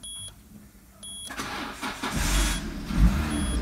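A Peugeot 307 with a 1.6 petrol injection engine cranks briefly and catches, settling into a loud, rough idle after a faint chirp, heard up close with no voices.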